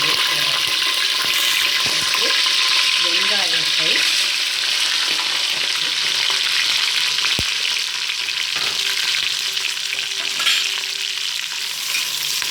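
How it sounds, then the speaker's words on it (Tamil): Sliced onions and green chilies fry in a pan with a loud, steady sizzling hiss, broken by occasional clinks and stirring scrapes; a voice murmurs faintly beneath it. "வெங்காயம் நல்லா வதங்கணும்"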